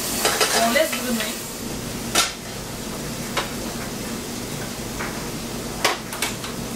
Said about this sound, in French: oignon, ail, haché dans un chaudron avec de l'huile d'olive. On laisse bruner.